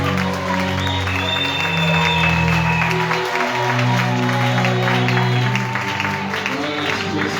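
A church congregation applauds steadily, a dense continuous wash of clapping, with voices and sustained musical tones beneath it.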